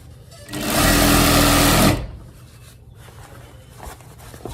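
Sewing machine stitching fabric for an African head wrap: a steady close mechanical whir lasting over a second, starting and stopping abruptly, followed by quiet room sound.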